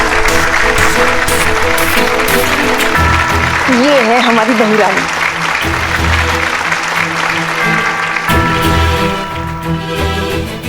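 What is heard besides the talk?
applause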